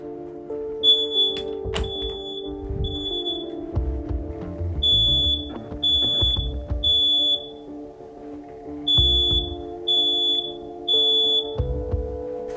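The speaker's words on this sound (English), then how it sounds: "Get the alarm activated." Smoke alarm triggered by candle smoke indoors, heard from behind a closed door: a repeated series of sharp high electronic beeps in groups of three, muffled but clear, over a low steady room hum and some knocking.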